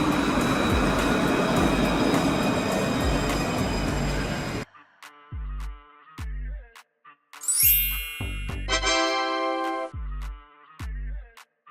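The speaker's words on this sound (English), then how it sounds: "Tram trains, operating on urban routes and capable of sharing tracks with road vehicles." A tram train on urban tracks, first a dense rumbling roll for several seconds, then a quieter stretch of rhythmic clacks over rail joints with a bright ringing chime partway through, no talk.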